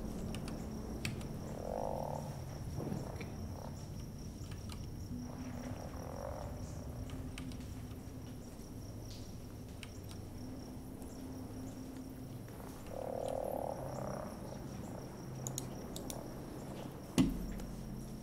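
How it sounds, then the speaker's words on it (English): Frogs croak in the ambient soundscape of the video game Sea of Thieves, short low croaks recurring every few seconds over a constant bed of insect-like chirring, with a brief sharp thump near the end. "You can hear the frogs and whatnot."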